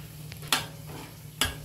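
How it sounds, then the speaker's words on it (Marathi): Whole spices fry in hot oil, producing a soft, steady sizzle with two sharp clinks of a utensil against the pan. "तापलंय, सगळे खडे मसाले टाकून घेतलेले आहेत तेलात।"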